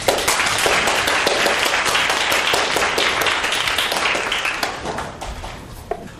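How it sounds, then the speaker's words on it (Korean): An audience at a Korean lecture event claps steadily to welcome a professor to the stage, a dense wash of many hands that stays loud and even, then thins out near the end. "이제 강원택 교수님을 큰 박수로 맞이해 주시기 바랍니다"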